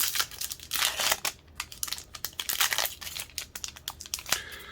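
Crinkly foil wrappers of Magic: The Gathering Throne of Eldraine booster packs being torn open and crumpled, a steady run of close, sharp crackling rips with brief pauses between, no talking.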